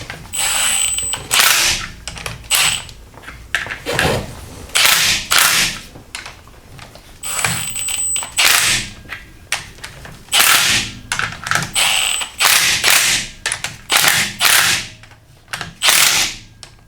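Ratchet clicking in repeated bursts while tightening bolts on a BMW M57 diesel engine during an overheating repair, loud and close, with short pauses between runs and no talk.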